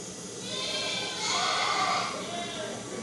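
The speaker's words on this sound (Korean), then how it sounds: "염소는 좀 듣기가 거북하죠." A recording of a goat plays aloud, giving a harsh, noisy, sustained bleat that swells and fades over about three seconds against a steady hiss.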